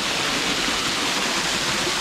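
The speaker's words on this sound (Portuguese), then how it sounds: "E a gente, pra continuar, tem que passar debaixo da queda d'água." A waterfall pours down beside a levada trail path on Madeira, a steady, loud, close wash of rushing water with no other sound.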